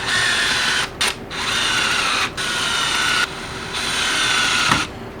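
A power drill drives screws into the top piece of a motorcycle center lift held in a vise, running in steady loud whirring bursts with brief pauses between them, close up.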